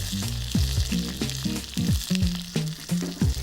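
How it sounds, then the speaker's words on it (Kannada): Chopped green chillies frying with browned urad dal in hot oil give a steady close sizzle, partly masked by rhythmic background music with plucked tones and sliding low drum beats. "ಉದ್ದಿನಬೇಳೆ ಬ್ರೌನ್ ಆದಮೇಲೆ ನಾವು ಹೆಚ್ಚಿರುವಂಥ ಹಸಿಮೆಣಸಿನ್ಕಾಯಿ ಹಾಕಬೇಕು"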